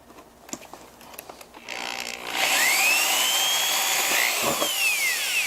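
A power drill bores through the soft material of a retro arcade gaming table, starting after a few faint knocks and then whining steadily and loud, its pitch sliding as the bit works through.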